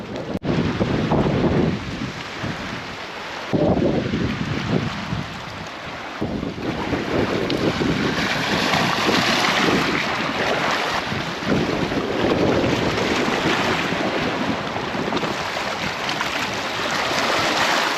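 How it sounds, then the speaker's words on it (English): Strong wind roars across the microphone in heavy gusts over Revelstoke Lake, with water and waves churning beneath, loud and continuous with no voices. "And it's windy."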